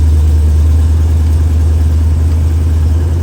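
A 1968 Camaro engine runs at a loud, steady, deep rumble close by, holding an even idle-like drone throughout.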